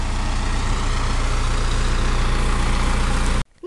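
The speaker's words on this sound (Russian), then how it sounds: "Сейчас автобус будет ехать" Heavy bus engine rumbling loud and close for several seconds as it pulls up, steady low drone that cuts off abruptly near the end.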